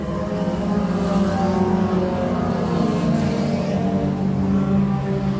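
Race cars pull away after the green flag at Can-Am Speedway, a loud, sustained engine drone with layered rumbling tones from several cars at once and no talk over it.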